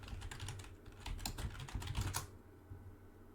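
Rapid clattering keystrokes on a computer keyboard, close and steady for about two seconds before falling away to quiet room tone.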